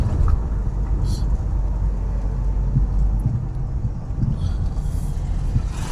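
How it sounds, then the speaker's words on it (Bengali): Heavy traffic passes on a road standing in for a closed main highway near Siliguri, a continuous low rumble of cars and trucks with faint voices nearby. "গাড়ি কিন্তু প্রচুর চলছে এই রাস্তা দিয়ে এখন"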